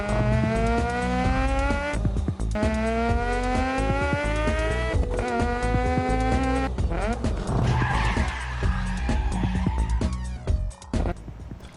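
Car engine and tire sounds from an old Shockwave Flash racing video game: a buzzy synthetic engine tone rising repeatedly through gear-like sweeps, then harsh tire skidding and squealing, loud and close with no talk.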